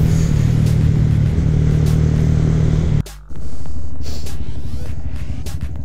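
Honda Grom or Kawasaki Z125 mini bike engine revving loudly nearby, a steady low drone that cuts out abruptly, then returns and holds on as the ride continues.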